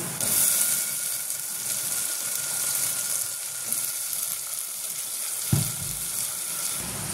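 Onions frying in a kitchen pan give a steady, moderate sizzle that runs throughout, with a brief clatter or stir near the end.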